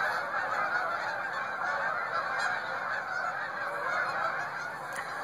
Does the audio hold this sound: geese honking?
yes